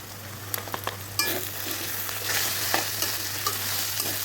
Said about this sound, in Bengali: ভালো করে নেড়ে করে মিশিয়ে নিচ্ছি